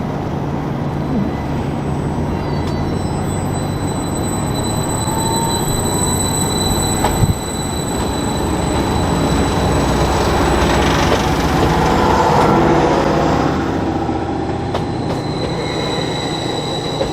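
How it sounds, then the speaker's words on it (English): A passenger train, unit 755338 on the Wherry Lines, runs steadily with a continuous rumble and rolling wheel noise, faint squeals rising now and then, and no talking. "the train we've been travelling on"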